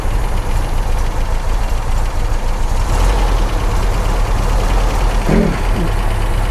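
A 1972 MG MGB engine with SU carburettors runs steadily as its throttle cable is pulled, a loud, continuous low mechanical drone that barely changes over several seconds.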